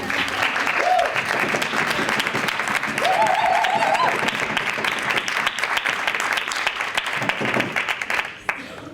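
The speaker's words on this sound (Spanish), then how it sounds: "quiero que le deis un fuerte aplauso" Sustained audience applause for a speaker at a voice and acting talk, loud and even throughout, with a few brief voices and whistles mixed in before it thins out at the very end.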